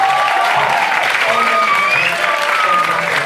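An audience applauds Robert, the sound technician, at a Catalan rock concert; dense, steady clapping fills the whole stretch at close range, with crowd murmur and a voice woven through it.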